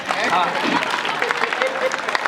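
Audience clapping at a Hindi poetry gathering (kavi sammelan), steady applause running throughout with voices mixed in.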